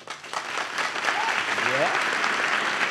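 An audience at a French stand-up comedy show breaks into applause, building quickly to a steady, lively clapping with brief whoops and a voice heard under it.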